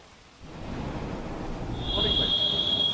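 Steady, dense monsoon downpour hiss in Surat district, Gujarat, growing heavier partway through, with a faint high tone entering near the end.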